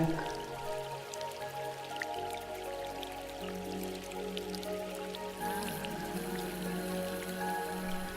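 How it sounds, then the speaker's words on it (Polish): Water babbles and trickles steadily over small drops, with a constant splashing murmur and scattered drips, recorded close up with no voices. "Słyszysz szmer przepływającej i spadającej wody z niewysokich wodospadów"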